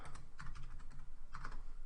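Fingers typing a file name on a computer keyboard, quick light clicks in short bursts with a brief pause midway, close and fairly quiet.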